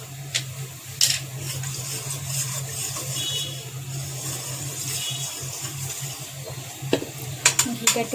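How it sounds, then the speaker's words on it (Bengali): Ghee melts into soybean oil in a wok and sizzles softly while a spoon stirs, scraping and clinking against the metal in several sharp knocks, close and moderately quiet. "ঘিটা একটু তেলের সাথে মিশাই দিলাম।"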